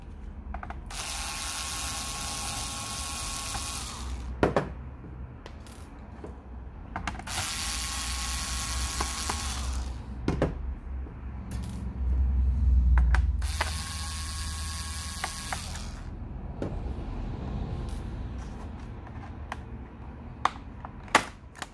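Three bursts of ratcheting, clicking screwdriver work while screws are undone on the base of an Acer Aspire E5 laptop, each run lasting a few seconds with sharp ticks and a low thump between them, close and fairly loud.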